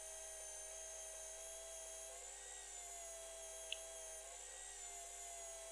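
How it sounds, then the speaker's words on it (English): A small rotary polishing tool whines steadily at a high pitch while buffing an aluminium Normandy rear bicycle hub with yellow compound. The tone is continuous and close, with a faint click partway through and no talking. "And we are going to polish the whole hub."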